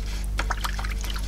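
Clean fresh water is poured and trickled over the tip of a pH probe for a pool salt chlorinator, giving small close splashes and dribbles over a steady low hum.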